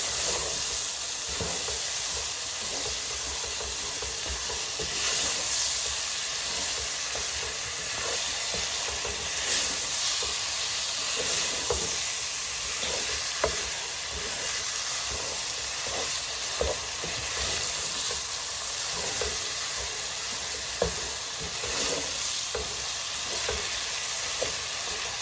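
A mixture fries in a pan while a spoon stirs it, giving a continuous sizzling hiss with regular scraping clicks and taps close by throughout; no talking.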